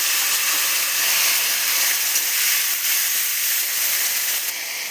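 Cumin, green chilli, tomato, salt, turmeric and chilli powder frying in a pan with a splash of water, giving a steady, even hiss of steam and sizzle that holds constant throughout and eases off slightly at the end.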